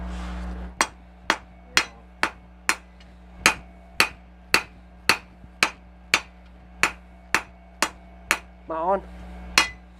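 Steady hammer blows flattening steel stock for a knife, about sixteen sharp metallic strikes in an even rhythm, close and loud over a low constant hum, with a brief grinding squeal near the end.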